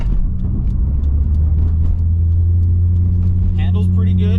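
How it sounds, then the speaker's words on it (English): A lowered BMW E30 rips around a corner, its engine rumbling loud and steady up close from inside the cabin, with a few sharper tire and road noises near the end. "So let's rip around this corner because it's going to scrub that side."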